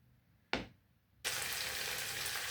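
Fried rice cooking in a pan gives a short loud burst of sizzle, then a brief lull, then a steady, bright frying hiss that carries on to the end, with no talking.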